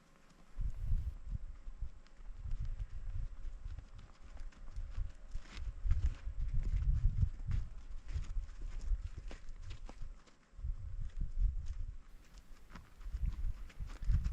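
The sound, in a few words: horses walking, hooves clip-clopping near a spring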